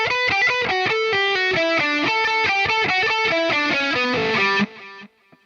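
Distorted electric guitar slowly picking a solo passage, a steady run of sustained notes up close that stops abruptly and leaves a brief faint tail.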